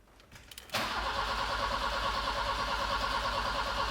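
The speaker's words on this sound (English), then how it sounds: "Just try it one more time with a bit of choke." A 37-year-old car's engine is cranked with the choke pulled, kicking in abruptly after a short quiet pause and then churning steadily and loudly with a rhythmic low pulse, close up, with no talking.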